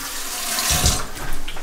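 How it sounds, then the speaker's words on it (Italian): Cold tap water runs from a faucet into a sink for rinsing after wet shaving, a steady close splashing rush that swells briefly in the middle. "direi di risciacquare con acqua fredda e passiamo all'attaché"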